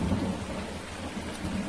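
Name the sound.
rain and thunder in video game Farming Simulator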